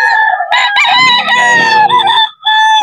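A Sweater gamefowl rooster at a pet market crows loudly and close for most of the clip, with a long sustained call, a brief break, then another crow starting.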